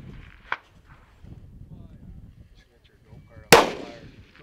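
Gunshots ring out at an outdoor shooting stage in windy badlands, with a faint distant crack early on and then one loud close shot with a ringing tail, while people talk quietly in between.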